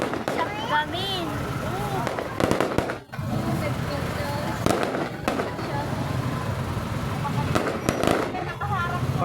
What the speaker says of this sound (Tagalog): Fireworks po ng SM City of San Fernando.